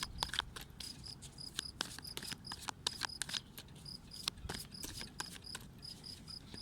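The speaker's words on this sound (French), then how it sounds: "Il y a un grillon qui m'accompagne." A cricket chirps steadily in fairly quiet surroundings, giving repeated short, high-pitched pulses at a moderate level throughout, with a soft background hiss and no voices.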